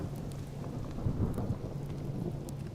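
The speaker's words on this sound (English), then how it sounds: "What do you mean it's raining inside base?" Steady rain with rumbling thunder from inside a closed base in the survival game Subsistence, a continuous wash of rainfall with a low rolling thunder swell near the middle and no voices.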